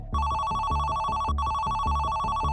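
A telephone rings in a steady repeating electronic trill, loud and alone, used as a sound effect in a Hindi news report about a late-night call to a police control room in Lucknow.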